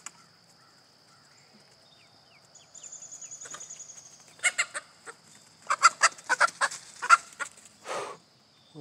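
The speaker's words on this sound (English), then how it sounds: "There's Mr. Cockadoo crowing" Ameraucana flock with a rooster crowing in a backyard coop, a short series of loud crow-like calls and clucks after a quieter stretch with a steady high insect or ambient hum.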